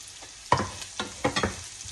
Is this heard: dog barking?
no